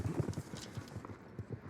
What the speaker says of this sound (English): This is a new horse for Laura.